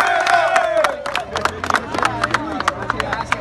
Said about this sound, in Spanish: Aplauso para el equipo campeón.